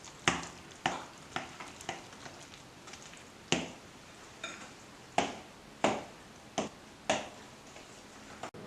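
Varenyky filling mixed with sugar in a bowl produces a series of irregular, close clicks and soft thuds from a utensil striking the sides, about a dozen strokes against a quiet background.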